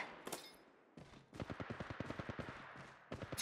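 Apex Legends Mobile gunfire: after a brief sharp burst and a short lull, a steady automatic string of shots rattles at an even rhythm for nearly two seconds, moderately loud, with no speech.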